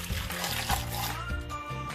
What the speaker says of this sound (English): you're gonna take that and pour it straight over your ice